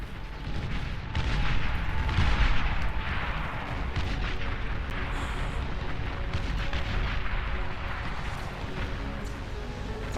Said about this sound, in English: These flat cannons are insane.